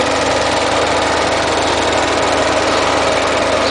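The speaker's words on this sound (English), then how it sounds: "2-liter turbocharged Ecotec Pontiac engine. Starts and runs perfectly. Sounds great." A 2008 Pontiac Solstice GXP's 2-liter turbocharged Ecotec engine drones steadily and loudly without a break, a constant mechanical hum with a buzzy high-pitched edge and no voices.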